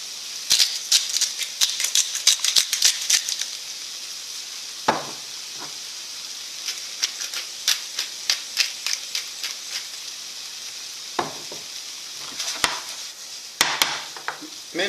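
Zucchini and smoked salmon cook in a pan with a soft, low sizzle under frequent sharp clicks and scrapes of a utensil against the pan, close and intermittent.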